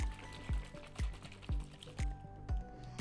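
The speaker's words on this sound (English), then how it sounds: "and give it a little shake." A spray bottle of homemade all-natural cleaning solution made with distilled water is shaken, giving six evenly spaced sloshing knocks about half a second apart, close and fairly quiet with no talk.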